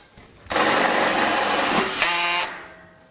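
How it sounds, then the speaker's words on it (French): A power screwdriver drives a screw into a joist on a Terrassteel steel deck frame, a loud, close whirring burst of about two seconds that rises and then cuts off, with no talk. "je positionne ma lambourde et maintenant, je peux la visser."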